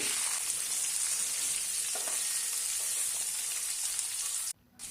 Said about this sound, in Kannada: ಬೆಳ್ಳುಳ್ಳಿ ಫ್ರೈ ಆದ ನಂತರ ನೆಲ್ಲಿಕಾಯಿನ ಹಾಕಿಬಿಟ್ಟು ಚೆನ್ನಾಗಿ ಒಂದು ಐದಾರು ನಿಮಿಷ ಕಲರ್ ಚೇಂಜ್ ಆಗೋವರೆಗೂ ಫ್ರೈ ಮಾಡ್ಕೊಳ್ಬೇಕು